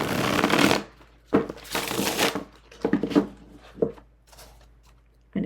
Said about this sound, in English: I shuffle this deck, pick my cards, and then go find the corresponding ones.